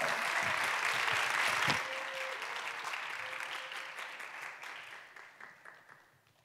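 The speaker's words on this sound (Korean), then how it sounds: "우리 박수로 맞이하겠습니다" A church youth congregation applauds to welcome a woman pastor to the pulpit, the broad clapping loud at first and then tapering off steadily toward the end.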